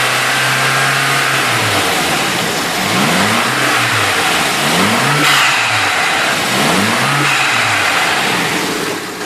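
A PS13 car engine idles, then revs up and down several times in quick succession, the pitch rising and falling with each rev.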